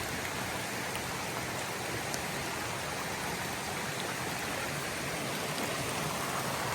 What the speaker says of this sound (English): That's a raging waterfall there.